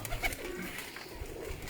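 Pigeons coo on a rooftop, a couple of soft low coos close by over a faint steady background.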